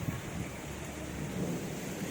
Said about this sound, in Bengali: অনেকক্ষণ ধরে মেঘ ডাকছে, খালি গুরুম গুরুম আর গুরুম গুরুম করে খালি আওয়াজই হচ্ছে